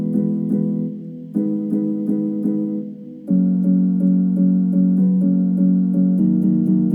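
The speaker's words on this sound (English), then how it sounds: "I added this chord progression with a little bit of rhythm to it using the Labs piano" Labs free piano plugin playing a deep house chord progression with a rhythmic pattern, warm sustained chords pulsing in repeated stabs and shifting to a new chord partway through, loud and alone with no voices.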